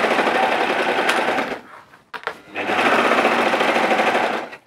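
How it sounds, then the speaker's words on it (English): A serger overlocks and trims the fabric edge of a coverall in a loud, fast, buzzing whir. It runs, pauses with a few clicks and handling noises, then runs steadily again up close, and no one talks. "I'm just going to serge all the way up, cutting a little bit off as I go"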